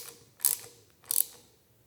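A ratchet tightening the handlebar clamp bolts on a Harley, heard as two short bursts of rapid metallic clicking, close and clear against a quiet background.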